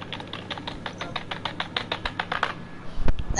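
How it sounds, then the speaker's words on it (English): Fast clicking keystrokes on a computer keyboard, close and crisp, in a quick irregular rhythm, ending in a few heavier thumps. "I'm hitting my keyboard."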